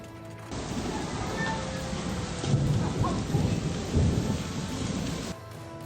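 A thunderstorm in South Australia pounds down rain and hail in a dense, continuous roar, with heavier bursts of impacts toward the middle before it cuts off.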